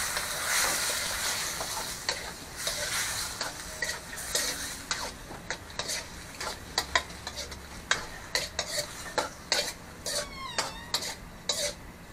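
A kilo and a half of squid for adobong pusit sizzles in a hot pan, with a constant frying hiss broken by repeated scraping, clinking stirs of a utensil against the pan.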